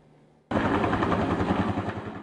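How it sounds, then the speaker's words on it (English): Firefighting helicopters working over the Quail Fire wildfire, scooping water from a pond, burst in loudly after a brief quiet start: a close, heavy rotor chop with a rapid rhythmic thumping that stays strong and steady throughout. "Helicopters using his pond to slow down the Quail Fire."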